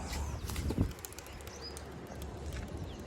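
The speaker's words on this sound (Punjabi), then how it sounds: "ਦੂਜੀ ਕਬੂਤਰੀ ਵੀ ਛੱਡਦੇ ਆ ਆਪਣੀ" A pigeon's wings flap in a brief burst of beating, close by as it is released outdoors, then outdoor ambience with faint chirps.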